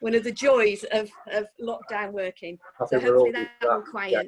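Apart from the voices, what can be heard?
No everyday noises stand out.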